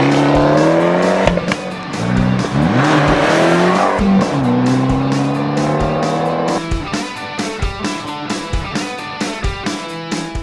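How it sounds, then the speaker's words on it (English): A 2012 Fiat 500 Abarth with dual exhaust roars loudly from close by while driving, revving up through the gears with rising, falling engine tone, then popping and burbling rhythmically on lift-off. "you get Countum dual exhaust, which I think just sound terrific"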